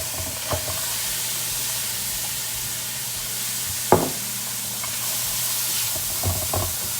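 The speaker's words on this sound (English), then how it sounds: "With the bacon, we're also gonna put the onions and get them started." Bacon and onions fry in a pan with a steady sizzle throughout, joined by a few sharp clinks of a utensil against the pan, with no talking.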